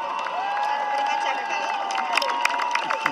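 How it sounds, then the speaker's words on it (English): Crowd in the stands at a marching band competition finals awards ceremony clapping and cheering steadily, a dense wash of applause with scattered shouts and whistles rising above it. "How about if you on the field give your parents a great round of applause?"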